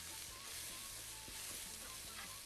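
Textured soy sizzles as it is stirred in a frying pan, a soft steady crackle with faint scraping strokes of a utensil, fairly quiet and close with no talk.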